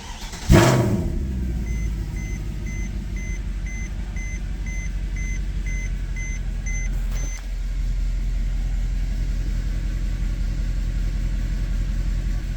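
A Mercedes E63 AMG with a suspected misfire fault starts up with a sharp crank burst and settles into a steady idle. A repeating electronic warning chime pulses over it, with a brief dip partway through.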